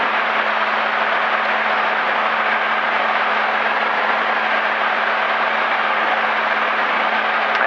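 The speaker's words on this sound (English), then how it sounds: "Throttle back a little bit and see 2100 RPM." Light aircraft piston engine in cruise flight, throttled back to about 2100 RPM over Georgia, a steady, even cockpit drone with a broad hiss and no pauses or voices throughout.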